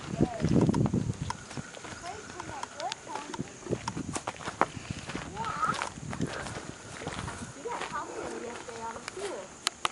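Horse walking outdoors, hooves giving scattered clip-clop knocks under a background of people talking and ambient noise.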